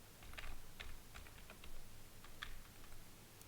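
A password is typed on a computer keyboard as a run of quiet, scattered key clicks in uneven bursts, close but faint over a low background hum.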